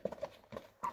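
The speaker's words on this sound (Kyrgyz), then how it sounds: "Жүгүрүшү негизи катуу ат экен" A horse sold in Nookat, about 1.70 m tall, runs with a few quick hoof clops in an uneven rhythm, close and fairly loud, all within under a second.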